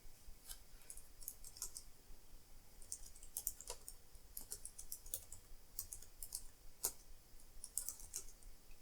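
Typing on an Apple IIgs computer keyboard: irregular bursts of crisp, close key clicks, some quick runs and some single presses, with short pauses between them over a quiet background.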